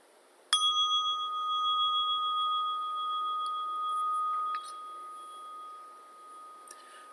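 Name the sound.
meditation bell sounded to start meditation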